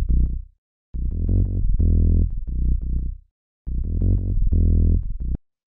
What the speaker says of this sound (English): The first sound we have here is this bass